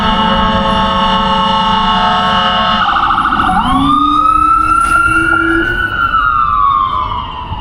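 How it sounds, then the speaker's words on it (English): Loud emergency sirens pass close by in downtown Huntington, West Virginia, a steady horn-like blare giving way to rising and falling wails that slowly fade. "You have to wait till them sirens go by."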